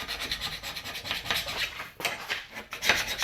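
A wire brush or abrasive scrubs rust scale off a car brake spindle during a 2011-2014 Hyundai Sonata brake job, making repeated close rasping strokes in a steady back-and-forth rhythm.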